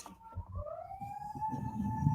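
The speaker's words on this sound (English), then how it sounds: "the sirens you hear in the background are sirens of approval" An emergency-vehicle siren wails in the distance, its steady rising tone drifting over a low rumble of background noise.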